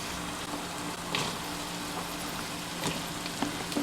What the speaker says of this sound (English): You fry your potato with the onion, say about another 10 minutes